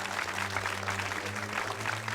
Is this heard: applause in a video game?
yes